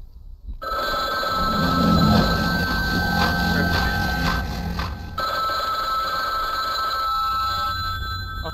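A telephone rings repeatedly in the laundromat horror game Bloodwash. The bell sounds clear and insistent over a humming background, fades briefly near the middle and then carries on.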